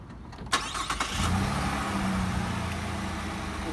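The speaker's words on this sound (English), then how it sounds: "And then I'll go and start the vehicle." A 2019 GMC Canyon pickup starts off a portable jumper box: a click and brief cranking, then the engine catches and settles into a steady, close idle with no one talking.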